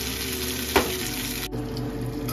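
Pieces of fish fry in a pan with a steady close sizzle, and a brief clatter of the utensil comes early on.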